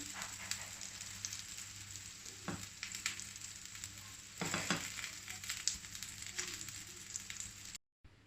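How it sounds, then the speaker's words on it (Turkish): Steady crackling sizzle of chicken meatballs frying in a pan, dense and continuous, with a few louder spits and a brief stir midway before it cuts off. "Evet köftelerimi de kızarttım."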